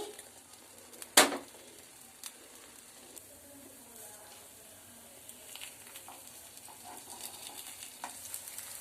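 Kuzhi paniyaram sizzle gently in a hot pan, with one sharp metallic clack near the start followed by soft scrapes and light crackling.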